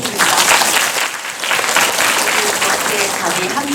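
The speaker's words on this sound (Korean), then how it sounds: "큰 박수 부탁드립니다." Dense, sustained applause from a large audience at a film talk event after a screening of Parasite, steady and loud for the whole stretch with no gaps.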